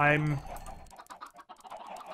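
Chickens clucking in a modded Minecraft game, a short burst of bird-like clucks at the start followed by softer scattered game sounds.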